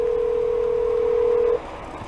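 A single steady phone line tone sounds while an emergency call is transferred after a car crash, holding for about a second and a half before cutting off to quiet line hiss.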